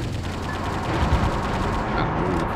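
Missiles firing in the mech action game Metal Wolf Chaos, a dense, continuous roar of launches and blasts with a slight swell midway, loud and sustained, no talk over it.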